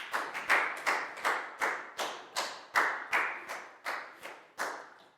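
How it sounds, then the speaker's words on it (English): A small classroom group claps in unison for a pupil, about a dozen evenly spaced rhythmic bursts, each a crisp cluster of hand claps that fades quickly, moderately close and free of talk. "a big round of applause for bang pon"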